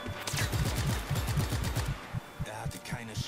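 Rapid bursts of automatic gunfire in the video game Just Cause 3 rattle loudly in a steady stream, pause briefly, then resume in shorter volleys with game-like effects.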